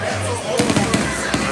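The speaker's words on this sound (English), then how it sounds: "I was just checking out the fireworks a little bit" Outdoor fireworks going off in a quick cluster of sharp pops and crackles partway through, against a steady background hiss.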